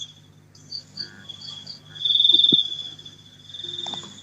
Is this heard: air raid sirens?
no